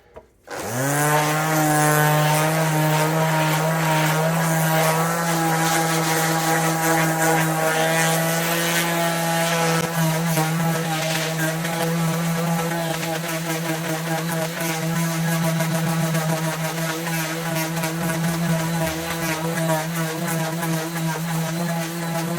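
A power sander working a solid wood radiator shelf, a loud steady motor whine that starts abruptly and holds a constant droning hum for the whole stretch, close by with no talking.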